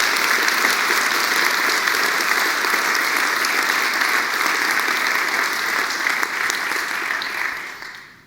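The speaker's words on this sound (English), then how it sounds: "Clap your hands for a group of organizing people." Large conference audience applauding the organizing team at a network operators' meeting opening: full, sustained clapping at steady volume that fades out at the end.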